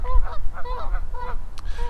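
Geese honk repeatedly outdoors near a river with turtles on logs, a loose chorus of overlapping nasal honks in quick bursts over steady low wind rumble.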